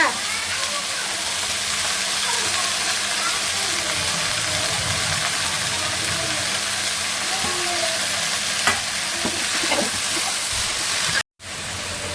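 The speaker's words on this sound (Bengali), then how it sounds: "শাকটা তেলে দিয়ে দিচ্ছি, পেঁয়াজ, রসুন আর কাঁচামরিচ দিয়ে" Leafy greens hit hot oil with onion, garlic and green chili, and a loud, continuous sizzle with scattered stirring scrapes runs throughout before a brief cutout near the end.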